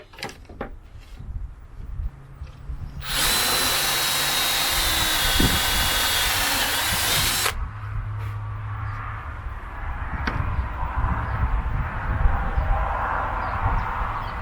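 A loud, high-pitched power drill whirs for several seconds, drilling a test hole with a size 10 bit in scrap wood, then stops; quieter handling and shuffling noises come before and after.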